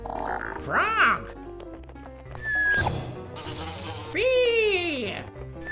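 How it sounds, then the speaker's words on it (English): Cartoon bee buzzing from a toddler animal-learning segment, a steady insect drone mixed with whooping, sliding playful effects and bright musical accents throughout. "Bee."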